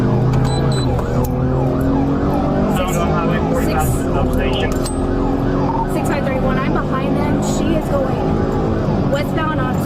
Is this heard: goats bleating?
no